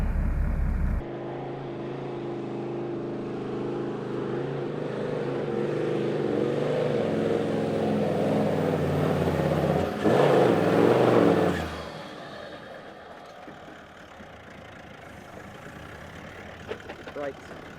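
A 4WD towing a trailer climbs a sand dune in the Simpson Desert, its engine droning loud and steady, surging briefly near the top, then dropping away to quiet idle.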